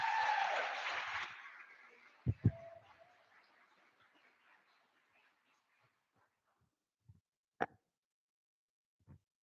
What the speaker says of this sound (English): Round of applause for kicking it off with a bang